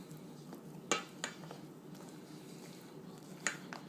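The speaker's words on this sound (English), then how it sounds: "I'm going to take a regular spoon and I'm just going to fold the blueberries into the mix" A regular spoon folding blueberries into protein muffin batter in a bowl, quiet soft stirring with a few sharp clinks of the spoon against the bowl.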